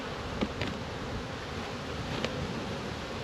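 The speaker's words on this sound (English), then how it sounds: "Alright, so shake the bees off of it." Honey bees buzz in a dense, continuous drone at an agitated outyard hive, faint and steady with a few brief louder passes close by.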